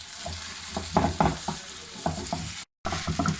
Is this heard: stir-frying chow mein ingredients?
yes